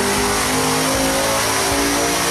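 A Devel Sixteen's 5,000-horsepower V16 revs on a dyno, a loud, dense engine roar with harmonic tones climbing as it is pushed, steady and close with no voices.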